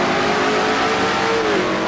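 Race car engine in a racing video game at Riverside Raceway, a loud, steady high-revving whine holding nearly constant over a short stretch, with no talk.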